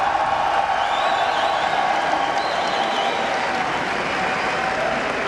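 An esports crowd at a European regional tournament applauds and cheers for SK Gaming, a loud, dense, continuous roar of clapping with scattered whoops and shouts mixed in.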